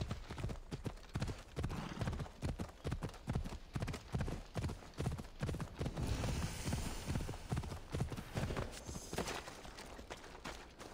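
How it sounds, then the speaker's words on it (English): Steady clip-clop of horse hooves in the video game Assassin's Creed Odyssey, in a quick rhythm, close and fairly loud, continuing throughout with a faint background hum. "Looks like a sturdy horse."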